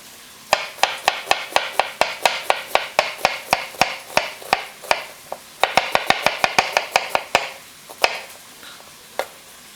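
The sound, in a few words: knife julienning a peeled sweet onion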